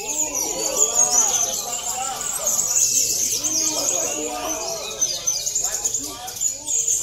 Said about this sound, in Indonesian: Kita bawa burung anakan.